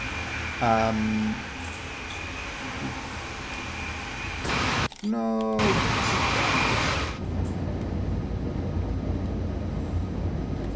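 A DB BR 101 electric locomotive in Train Sim World 3 hauls carriages on the Kassel–Fulda line, a steady running drone with two rising tonal warning sweeps and a brief cutout; a voice speaks a short word.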